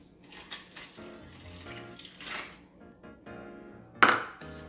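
Water is poured into a cup of noodles for a quick kitchen recipe, with soft, faint splashing in short uneven bursts and a sharper clink or splash near the end.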